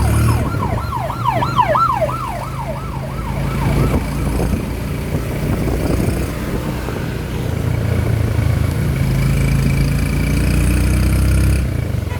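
A wailing ambulance siren sweeps up and down rapidly for a few seconds, then fades out, leaving loud engine and road rumble.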